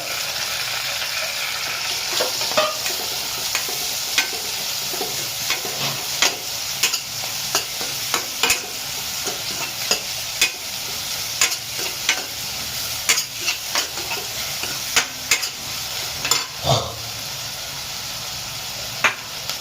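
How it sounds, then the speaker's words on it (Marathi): Steady sizzling of garlic, flat beans and dried fish frying in hot oil, with frequent stirring and scraping clicks of a spoon against the pan throughout, close and continuous. "तेल आपला गरम झालेला आहे तर आपण टाकूया लसूण घेवडा टा घेवडा सुकट"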